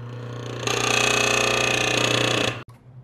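A worn 3/4 horsepower swamp cooler motor with bad bearings starts up and runs loudly with a harsh grinding rattle over a low hum, then cuts off abruptly after about two seconds.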